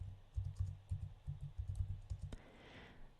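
Fingers tap out a command on a computer keyboard at a Linux machine, a quick run of close, light clicks in an uneven rhythm before stopping, then a faint hiss remains.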